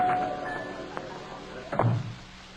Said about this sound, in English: Here, right through this door, Mr. Ames.